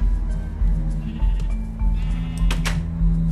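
Sheep bleating in the Minecraft video game, a few nearby bleats over a steady low background hum with a short click.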